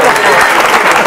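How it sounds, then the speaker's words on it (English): Audience applause for comedians at a 1986 comedy show, a loud, dense wash of clapping from a crowd, with the sound of the room filling the brief moment. "I'd like you to all give us a nice round of applause for all the comedians who are on this evening."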